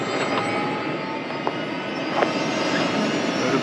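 A tour helicopter over Mount Everest runs with a steady loud rotor and engine roar heard from inside the cabin, constant with little change.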